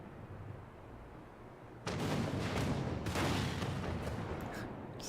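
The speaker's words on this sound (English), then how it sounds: "Just some added explosions at the end." Battle explosions from Final Fantasy XIV at the end of Stormblood: a quiet rumble abruptly gives way to dense, loud blasts and crackling booms that continue to the end.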